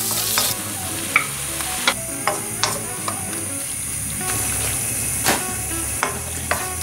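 Porcini mushrooms frying in a pan with a low, steady sizzle, broken by repeated scraping and stirring knocks from a utensil at a close, even pace.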